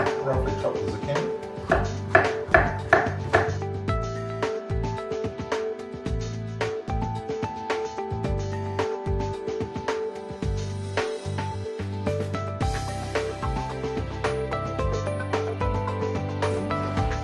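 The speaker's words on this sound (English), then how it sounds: "Again, just roughly chop the zucchini." A knife roughly chops zucchini for a Kauksweh-style coconut curry, giving a short burst of quick, rhythmic chops early on, then scattered lighter cuts, all beneath steady background music.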